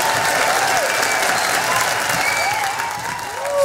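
Children clap together at a church kids' mission program, a dense, steady wash of applause that fills the whole moment, with a few high voices calling out over it.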